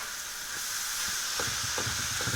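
Steady sizzling hiss of mushrooms frying in a pan, with faint soft pops and crackles scattered through it, continuous and close.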